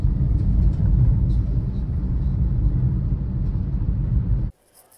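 A Hyundai Exter car driving on cruise control, a steady low road rumble and engine hum from inside the cabin that cuts off abruptly near the end.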